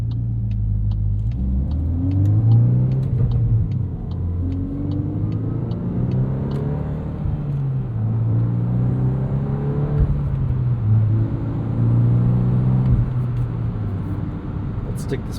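2024 Volkswagen Golf R with six-speed manual idling high in race mode, a steady throaty engine rumble with slight wavering in pitch, close and continuous throughout.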